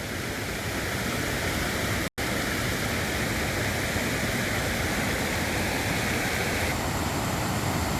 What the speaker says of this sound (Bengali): এই ঝর্ণার জল নেমে আসছে, এবং যেটি এই সুবর্ণরেখা নদীর সাথে এই জল মিশে যাচ্ছে